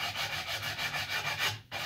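Steady back-and-forth rubbing of sandpaper on a wooden paddle bow tip, smoothing a pin knot, close and even, in regular strokes with a brief pause near the end.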